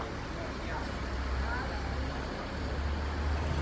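A Miyor bus passes in Indonesian road traffic, a continuous low engine rumble and roadway noise with a faint rising whine, steady and moderately loud throughout.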